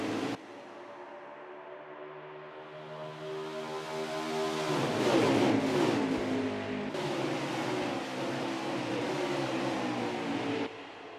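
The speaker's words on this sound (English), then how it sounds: "As I go through the gears once again for this second stage start." A truck engine in a racing video game climbs through the gears, a smooth rising whine that swells, changes pitch at each shift and holds a steady hum, heard alone without talk.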